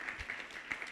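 A temple congregation at a Sunday service claps for the garden volunteers, a faint, distant patter of applause lasting only a moment.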